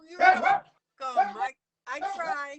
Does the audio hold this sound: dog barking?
yes